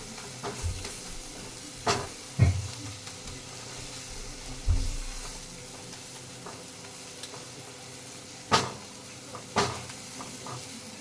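Ginger-garlic paste frying in oil with onions in a home kitchen and being stirred: a steady low sizzle broken by several scraping stir strokes at irregular intervals, close and moderately loud, with no talking.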